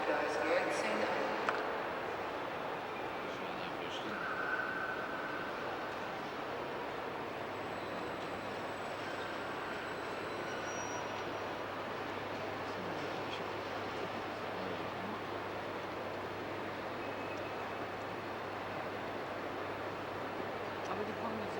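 Steady interior rumble of a train riding through the Alps toward Salzburg in 1990, a continuous even rolling noise with faint rattles and brief tones, loud and unbroken for the whole stretch.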